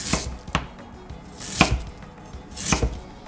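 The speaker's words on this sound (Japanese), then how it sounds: "5ミリ幅の輪切りにします。" Knife slicing peeled Chinese yam into 5 mm rounds on a cutting board: four crisp, separate chops spaced about a second apart, close and clear with no talk.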